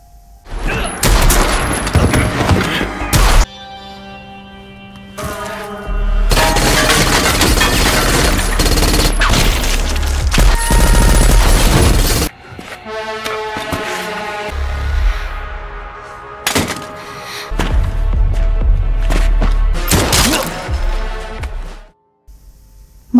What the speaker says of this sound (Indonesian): Masuk ke ruangan penuh lampu disko, Brian ditembak bertubi-tubi.